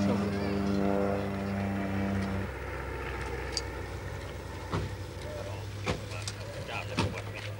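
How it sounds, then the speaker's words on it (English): A spotter plane flies overhead near a border area, heard as a steady engine drone with tonal harmonics that fade after a couple of seconds, leaving a lower hum alongside scattered clicks and background activity. "A spotter plane flies overhead."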